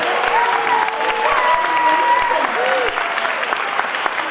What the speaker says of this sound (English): Wow, another round of applause